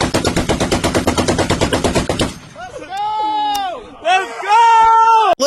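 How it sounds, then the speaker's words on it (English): A .50 caliber machine gun in poor condition fires a rapid, loud burst of about two seconds with uneven, labored rhythm, followed by voices shouting and whooping. "Let's go clean this 50 cal because it sounds like it's in bad shape."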